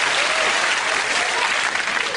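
A studio audience at a British comedy news show breaks into a brief, full burst of applause, dense and close, with no talking over it.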